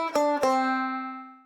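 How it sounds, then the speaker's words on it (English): A banjo-style plucked sample from an indie folk sample pack, two soft plucks in quick succession whose bright, twangy tone rings out and slowly decays, heard alone and close. "This one's called Whisper Banjo Pluck."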